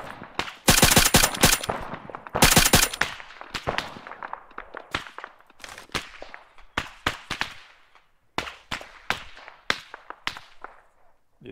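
Gunfire in the military shooter ArmA 3: two loud bursts of rapid shots up front, then scattered single sharp cracks and short volleys at varying distance, with no talking.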